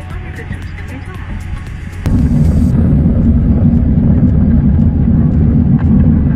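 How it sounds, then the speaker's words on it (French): A passenger airplane on a domestic flight to Orly begins its takeoff, heard from inside the cabin as the engines jump abruptly to a loud, steady, dense roar that fills the space and holds. "Nous voici enfin installés et le décollage se fait proche."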